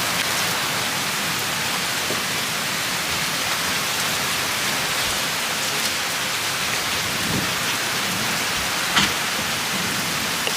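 Heavy, steady rain pours down with a dense, continuous hiss, a few louder drips and splashes standing out; no voices.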